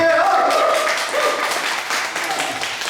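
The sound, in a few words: congregation applause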